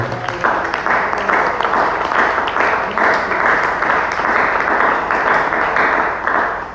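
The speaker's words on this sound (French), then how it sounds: "Est-ce qu'on peut encore acclamer le Seigneur?" A church congregation applauds, a dense, continuous wash of clapping from many hands that stays loud and even from start to finish.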